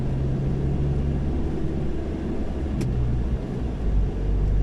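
Slow multicab vehicle rolling ahead on an old zigzag road, its low engine rumble steady and continuous throughout with a faint brief tick near the middle.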